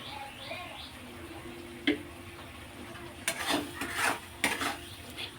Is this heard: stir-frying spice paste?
yes